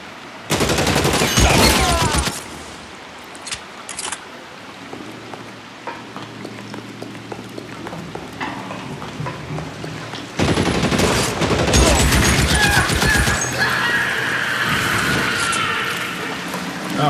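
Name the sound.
gunfire from a gun in the video game L.A. Noire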